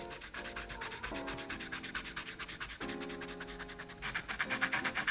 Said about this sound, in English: I won't make you listen to the full scratchy swatch again.